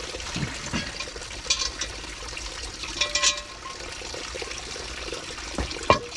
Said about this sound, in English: I'm just gonna wash these dishes